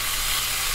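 Young onions and coriander sizzling in a frying pan while being stirred for a pork chop dish, a steady close hiss with no talk.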